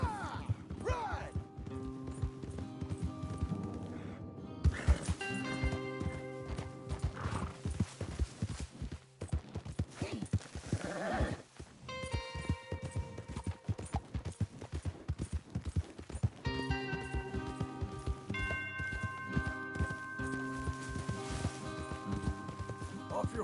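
Horses gallop in Red Dead Redemption 2, a steady clip-clop of hooves with occasional neighs, under game music and characters talking.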